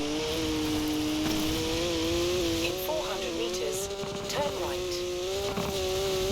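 A car engine in Forza Horizon 4 revs high and accelerates steadily on a track during an eliminator battle, loud and continuous with a rising whine, while someone talks over it.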